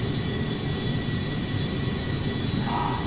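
A Boeing 787 jet engine hums inside a flight simulator game, a steady, moderately loud drone with a thin high whine running through it, no voices present.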